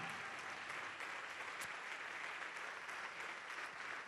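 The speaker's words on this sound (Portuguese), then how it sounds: "Vamos aplaudir mais." A congregation at a church service claps continuously, a dense even wash of applause that stays steady from start to finish, moderately distant and without clear speech.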